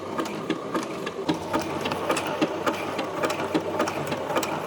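A sewing machine stitches a pair of pants in a steady run of rapid, rhythmic mechanical clatter, with regular needle thumps repeating close and moderately loud throughout.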